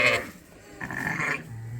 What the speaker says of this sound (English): Here comes another Suffolk mom with her twin lambs.